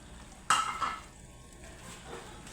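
A spoon stirs tuna sisig with chili and crushed chicharon in a pan, giving one sharp scraping clatter followed by soft shuffling and a faint sizzle, close and quiet.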